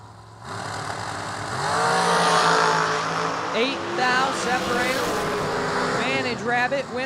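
Race cars launch at a drag strip during a Twin Fifties motorsports event, engine roar rising and sweeping upward through the gears while a track announcer talks over the noise.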